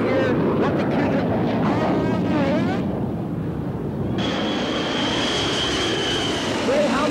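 A low jet airliner passes over a high school beneath the LAX flight path, a loud continuous roar that fills the whole stretch and swells in places, with voices talking underneath.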